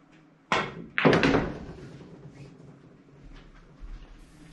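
On a pool table, a cue strikes the cue ball with a soft thunk, followed half a second later by a second sharper knock. Both sounds are fairly quiet and heard alone in a still room.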